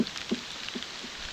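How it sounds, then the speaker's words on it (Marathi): Rain falling outdoors, a soft steady patter with a few scattered drops, faint and diffuse throughout. "आणि पाऊस बघा"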